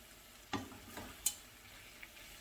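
Sliced baby bella mushrooms stirred in a pan with a spoon, a few soft scraping strokes and light taps over a quiet, faint sizzle, close and without voices.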